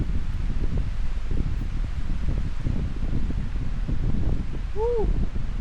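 Strong gusts of cold wind buffet the microphone and rustle leaves steadily throughout at Patricia Lake, Jasper National Park, with a brief high chirp near the end.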